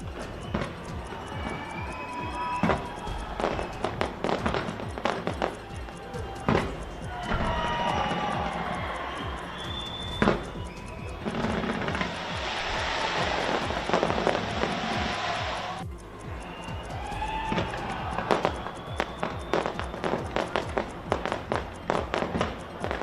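New Year fireworks over Sydney, Australia, crackle and boom in rapid irregular bursts, some sharp and close, others rumbling, with a dense sustained crackling spell in the middle and a crowd murmuring beneath.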